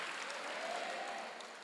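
A church congregation at a Wednesday evening service applauds in a steady, even wash of many hands, soft and distant, sustained without any talking.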